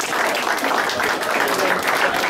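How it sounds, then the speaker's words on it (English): A gym crowd at a memorial boxing fight event gives a round of applause: loud, continuous clapping that stays constant throughout, with voices faintly mixed into the noise. "Round of applause, everyone."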